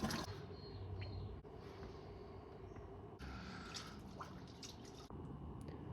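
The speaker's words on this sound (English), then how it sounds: "I'm going to chuck that hose on the other side and flush it back the other way." Water from a garden hose flushes through the heater core of a Mitsubishi Pajero Montero, a faint, steady trickling and dripping with small splashes, close by and without talk.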